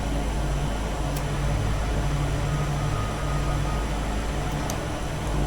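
Steady drone of a Beechcraft Turbine Duke's turbine engines and airframe in a flight simulator, low approach with flaps and gear down and power being fed in, continuous and even with a faint high whine on top.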